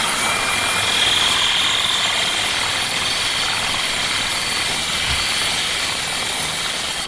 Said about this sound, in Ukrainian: Гальваніка 165 мм і керамограніт товщиною 8 мм. Короночка готова, шурік на другій передачі.